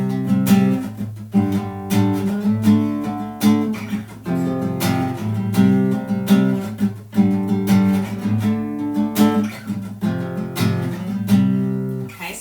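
Guitar power chords played for a tutorial, demonstrating parts in the style of two songs: thick, sustained chords struck in a steady, repeated strumming rhythm, loud and close with no talking throughout.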